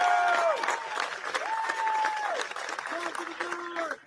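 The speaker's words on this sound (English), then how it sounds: "Another round of applause for first place." Applause for a first-place winner rolls through a crowd at a large outdoor military parade marking the Army's 250th anniversary, steady and dense, with whistle-like tones and voices mixed in over it.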